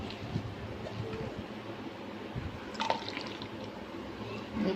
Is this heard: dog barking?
no